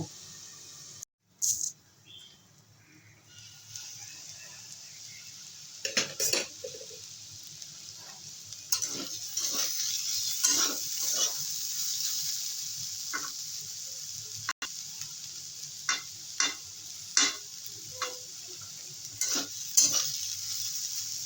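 Potatoes being stirred in a covered pan over a medium gas flame for vegetarian flattened rice pulao, with a steady soft sizzle broken by intermittent scraping and clinking strokes, close and alone without talk.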